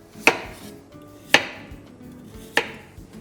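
Three crisp, evenly spaced knife strikes on a board as carrots are sliced along the side, each a sharp close chop with quiet between.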